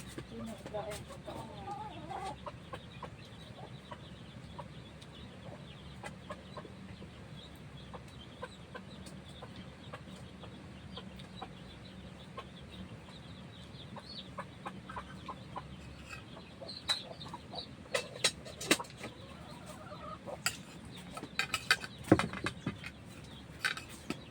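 Chickens at a rural hut clucking softly and intermittently amid low background noise, with occasional people talking and some scattered knocks near the end.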